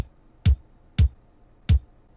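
Three deep, punchy kick drum hits spaced evenly about half a second apart, each a short low thump with a faint click, alone.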